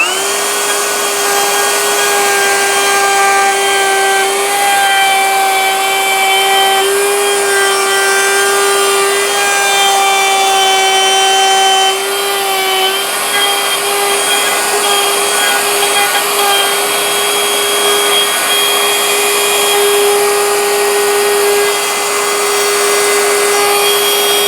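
Router spinning at high speed while cutting a wooden handrail joint, a steady loud whine with a strong tonal pitch that holds almost unchanged for the full duration, briefly dipping once midway, with no voices.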